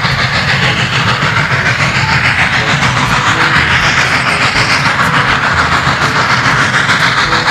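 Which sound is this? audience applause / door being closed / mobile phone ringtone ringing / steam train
steam train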